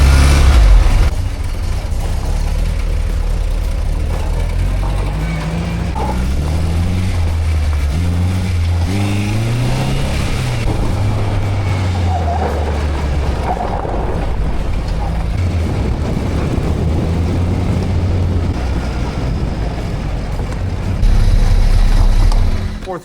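A sand rail dune buggy engine revving and pulling away, rising and falling engine tones under heavy wind buffeting, loud and continuous, with a brief surge of wind noise near the end.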